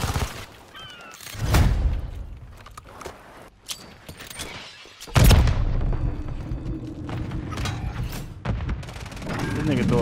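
A frag grenade explosion in Call of Duty MW3: a sudden loud, close boom halfway through, with scattered gunfire and mechanical clatter before and after, and a voice talking at times.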